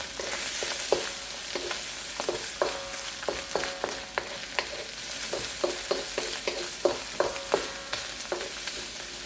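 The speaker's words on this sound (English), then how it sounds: "Then I'll pour the sticky rice into the pot. I'll mix it up" A spoon stirs sticky rice with soy sauce and dark soy sauce in a pot, giving a steady sizzle under irregular scraping knocks that repeat every half second or so, close and moderately loud.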